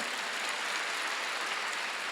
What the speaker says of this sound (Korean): 전도하는 재미를 맛보기를 원하는 사람 박수 한번 쳐보시기 바랍니다